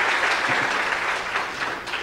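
Church congregation giving a strong round of applause, dense, loud and continuous clapping that fills the whole short stretch without any speech over it.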